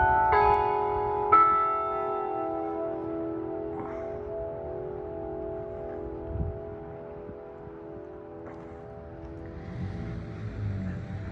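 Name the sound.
clock tower bell striking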